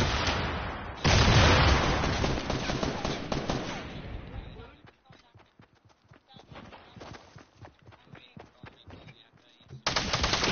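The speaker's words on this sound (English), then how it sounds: "I'm being shot at, I'm gonna get shot at any second, at the tree." Rapid automatic gunfire rattles in Call of Duty: Black Ops 3, loud and dense at first, then thinning to scattered bursts before a loud volley returns at the end, with voices speaking over it.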